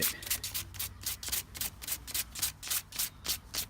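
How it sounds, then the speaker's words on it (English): Light sanding of filler on a cracked car dashboard, a quick series of short, rhythmic scratchy rubbing strokes, close and steady, with no talking. "all I'm doing here is just giving this a light sand"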